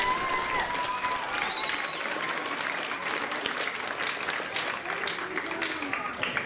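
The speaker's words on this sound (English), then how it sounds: "Let's give her a round of applause." Audience applause at a county fair show, a crowd clapping steadily with scattered cheers and voices mixed in, holding at a lively level throughout.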